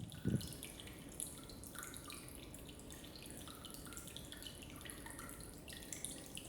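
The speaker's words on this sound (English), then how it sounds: "You heard the sound of like basically the water dropping into the cistern." Water dropping into a cistern on rural land, faint scattered drips and trickles echoing in an enclosed space, quiet and continuous with a slightly louder plop near the start.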